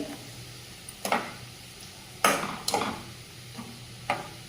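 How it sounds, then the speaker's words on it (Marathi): Finely chopped onion and spinach sauté in a pan, a faint sizzle broken by a few sharp, close scrapes and taps of a spoon against the metal, with no voices. "कांदा परतून घ्यायचा साईडला हा पालक पण शिजतोय"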